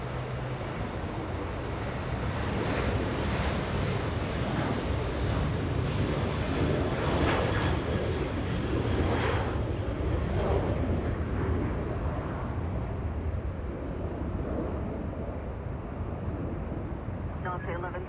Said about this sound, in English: Delta 1123 flying to Boston, Massachusetts. That's a 757 lining up.